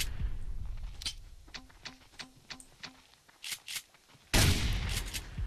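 Gunfire in the hunting survival game Subsistence: a run of evenly spaced single shots, then a couple of louder bursts and a sudden loud sustained blast near the end, fairly close.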